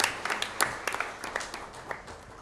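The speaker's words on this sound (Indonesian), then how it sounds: "Kita berikan tepuk tangan." Short, scattered applause from a small audience at a productive-business training ceremony, with irregular claps that fade over a couple of seconds.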